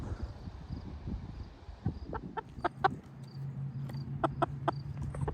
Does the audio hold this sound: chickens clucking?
yes